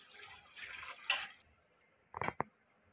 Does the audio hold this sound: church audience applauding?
no